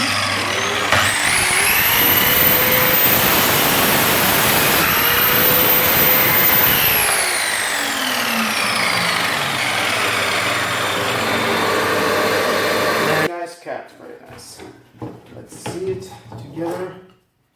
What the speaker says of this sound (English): Now let's try the other wood.